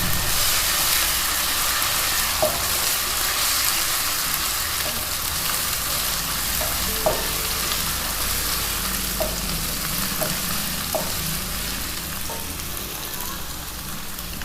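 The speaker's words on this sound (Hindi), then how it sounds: "अब इसमें जिंजर गार्लिक पेस्ट डालेंगे। इसे भी थोड़ा सा भूनेंगे।" Ginger garlic paste frying in a pan for masala kaleji, a steady loud sizzle and hiss up close with occasional stirring clinks, no talking.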